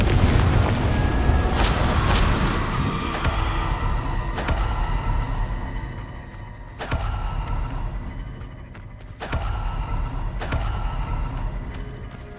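Confringo explosion spell in a Harry Potter video game, fired several times: a series of heavy blasting booms, each with a sharp crack and a rumbling tail, spaced a second or two apart over continuous loud game ambience.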